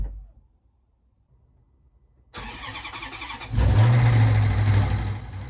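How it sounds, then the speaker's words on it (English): Maserati GranTurismo 4.2 V8 firing up after near silence, with a sharp crank and catch followed by a louder rise where the variators give off a whirring whine over the close, steady engine idle. "that bit of horrible whirring sound that you just heard was the variators"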